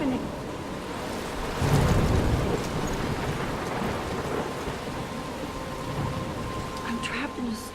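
In the video game Life is Strange, a storm pours heavy rain, and a deep roll of thunder swells near the start and rumbles on under the steady downpour.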